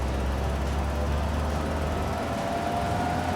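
A Willys CJ-2A jeep, a post-WWII military model, drives along with a low steady engine drone and road rumble through a gear change into third, continuous and moderately quiet.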